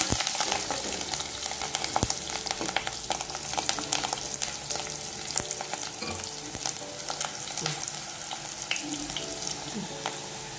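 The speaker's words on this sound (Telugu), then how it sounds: "తగినంత కరివేపాకు అనేది మనం కొద్దిగా లైట్ బ్రౌన్ వచ్చేదాకా వేసుకోవాలి" Curry leaves, onion and green chilli fry in oil, producing a dense close sizzle with frequent sharp crackles and pops throughout and a few soft stirring sounds, with no speech.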